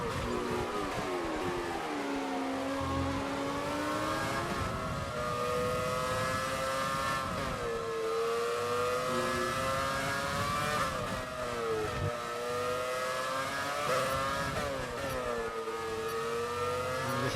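A Ferrari Formula 1 car in the F1 2020 game racing at the Vietnam circuit, its high-pitched engine whining steadily and rising and falling through gear changes, with other cars faintly audible around it.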